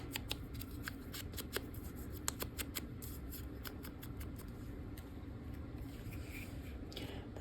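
Thin journal paper is handled close up, with crisp rustles, soft crinkles and occasional sharp snips and taps spread irregularly over a quiet background.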